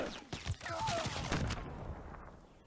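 Gunfire and blasts from a Call of Duty WWII online tournament match, including grenades and sniper rifle shots: a scattered run of sharp, fairly faint bangs and pops over a low, busy game background.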